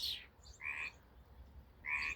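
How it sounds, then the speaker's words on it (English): A frog croaks at a tiny, newly filling homestead pond after rain, giving three short, high chirping croaks spaced about a second apart, faint and somewhat distant over quiet outdoor background. "I hear a frog."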